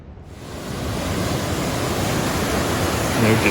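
Waves crash and surge along the Lake Superior shore near the Aerial Lift Bridge in Duluth, Minnesota: a loud, continuous roar of surf that builds toward the end, with wind buffeting the microphone.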